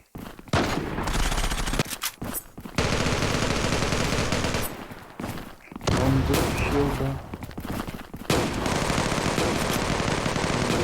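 Gunfire in the mobile shooter Zula, with sustained rapid automatic bursts broken by short pauses, loud and close, and a few faint in-game cues between volleys.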